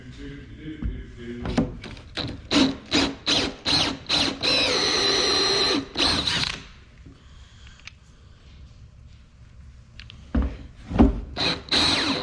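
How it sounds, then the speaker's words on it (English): A hand drill bores a hole into a fitting while working on a short-box Cummins truck, giving a series of loud, rhythmic bursts up close, then a long steady whir, a quiet pause and a few more short bursts. "Hole drilled in there."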